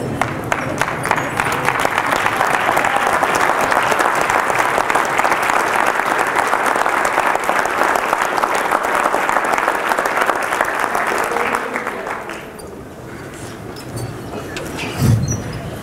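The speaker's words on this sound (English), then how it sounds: "I want you guys to all stand up and give yourself a round of applause" Teachers standing and giving themselves a round of applause make a loud, sustained wash of clapping for about twelve seconds before it thins out and fades, leaving quieter room noise.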